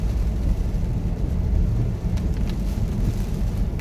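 Heavy rain and wind on a road in America during a downpour: a dense, steady roar of rain and gusting wind, loud and continuous throughout, with a faint vehicle passing and no voices.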